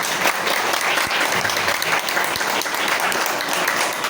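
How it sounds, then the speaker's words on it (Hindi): An audience at a college English Day event breaks into sustained applause, a thick, even wash of clapping hands lasting several seconds with no voices over it. "उनको 4 चांद लगाने वाले आप सभी के लिए एक बार जरूर ताली हो जाए।"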